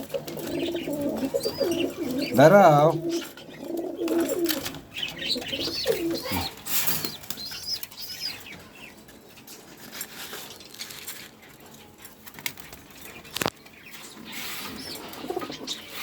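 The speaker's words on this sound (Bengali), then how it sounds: "আমার এই জোড়া কবুতর অবশ্য" A pair of pigeons coos softly at close range, with occasional mechanical rattles nearby and a brief spoken word.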